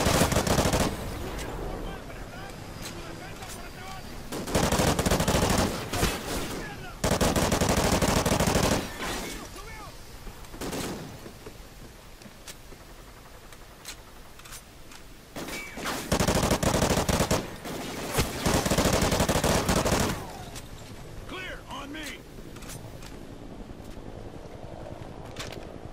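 Bursts of automatic gunfire in a Call of Duty: Ghosts campaign firefight, several loud sustained volleys separated by quieter stretches with distant shots and some voices.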